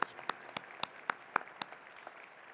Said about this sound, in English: Give a brief round of applause for our two honorees.